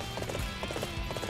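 Horse hooves clip-clopping in the video game Dynasty Warriors 8 Empires, a quick, steady galloping rhythm of repeated hoofbeats, fairly close and upfront over a busy game background.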